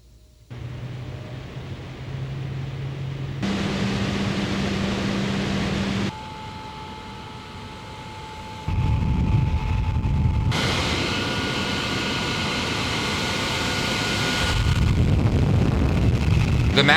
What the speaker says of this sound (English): I have loved falling asleep to the white noise of both fans